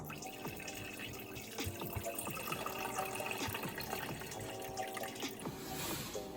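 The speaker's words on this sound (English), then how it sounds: "So now I put in the water." Tap water runs and trickles into a pot being filled for boiling spaghetti for chicken alfredo, a soft, steady splashing heard close up at low volume with no voices.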